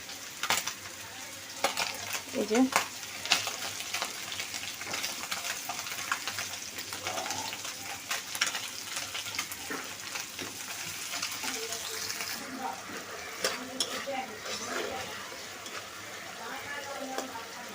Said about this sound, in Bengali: আর এই তো মাছটা ভেজে নিতেছি